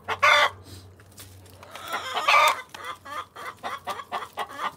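Hens on a backyard farm clucking in bursts of varied, close, fairly loud calls, with a steady low hum underneath.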